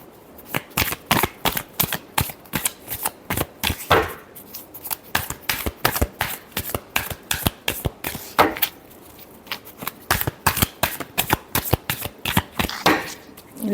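Tarot cards riffle and snap in rapid bursts during a shuffle, with brief pauses between runs of crisp, close, fairly loud flicks and no talking.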